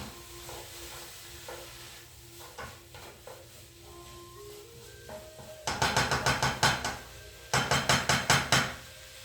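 Meat being stirred in a pan with onions for a shepherd's pie: quiet scraping at first, then two loud bursts of rapid, rhythmic clanking and scraping of a utensil against the pan, up close, with no talk.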